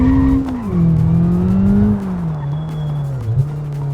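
A race car corners in the BeamNG driving game, loud engine drone with tyres squealing and skidding continuously through the bend, engine pitch dipping and recovering, no talk.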